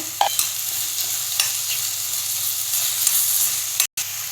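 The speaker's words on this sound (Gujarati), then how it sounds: "હવે આ બધું આવી રીતે પ્રોપર મિક્સ કરી લેવાનું." Spices (turmeric, chili, coriander-cumin powder and garam masala) stirred in a hot frying pan for bread pakora filling, a continuous close sizzle with scraping stir strokes recurring through it, no voices.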